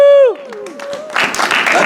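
A tour group on a walking tour in Edinburgh breaks into a short burst of clapping after a voice, and the applause keeps going to the end.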